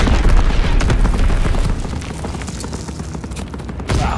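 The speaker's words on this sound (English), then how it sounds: "Launching Captain V2 rocket." Dense rolling booms and gunfire-like blasts from a V2 rocket launch and explosion in a Call of Duty match, sustained and loud throughout with a fresh burst near the end.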